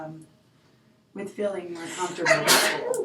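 A single sharp sneeze bursts out close by right after someone speaks, loud and abrupt with a breathy rush.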